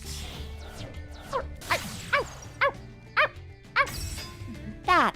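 Barking from a dog monster in the Yu-Gi-Oh! Master Duel card game: several short, rising yips and barks at irregular intervals over a busy game soundtrack, moderately loud.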